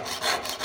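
A jeweler's saw frame rasps along a marked line in metal, one short rough stroke that swells and fades, close and alone.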